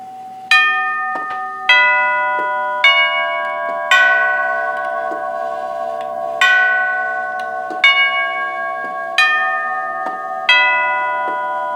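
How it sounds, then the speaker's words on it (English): A 1939–1940 NuTone Series 2 three-door chime plays its eight-note front-door tune: clear, ringing bell tones struck one after another, each note sustaining and fading as the next sounds, alone and close. "And then of course we have 8 notes for the front door."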